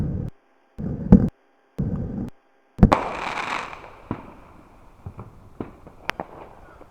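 Fireworks bursting outdoors: a few muffled thumps, then a loud bang with a crackling, hissing shower that fades, followed by scattered sharp pops near and far.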